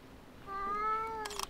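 A cat meows once at a spot in Kyoto where several cats lie resting, a clear, drawn-out meow up close with a short rustle at its end.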